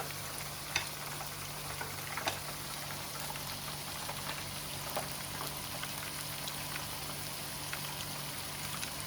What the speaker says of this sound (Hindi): ये अब मैं दूसरी बार चिकन डाल रही हूँ।